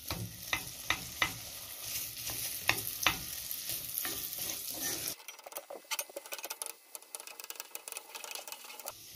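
Bacon lardons and onion sizzle in a pot while a utensil stirs with a series of sharp scrapes and clinks; partway through the frying hiss thins out and turns quieter and more crackly.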